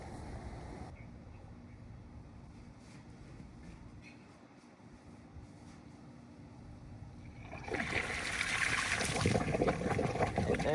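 A pump pushing water through a yard drain pipe in a side-yard drainage setup: a steady broadband rush and gurgle that grows louder and splashier toward the end, with outdoor background noise throughout.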